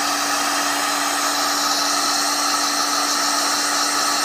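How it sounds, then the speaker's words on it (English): A heat gun shrinking heat shrink tubing blows with a constant, even whooshing hiss and a steady high whine, close and loud throughout, with no talking. "So the next noise you hear is going to be the heat gun as I shrink this"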